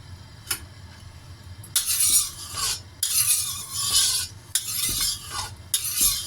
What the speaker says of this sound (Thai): เราจะผัดข้าวกับไข่ก่อนนะคะ